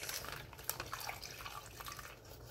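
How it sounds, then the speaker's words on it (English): Milk poured into a bag of pudding mix in a classroom, a soft continuous liquid pour with faint splashy drips, quiet and close, no talking. "So you pour the milk in with the pudding."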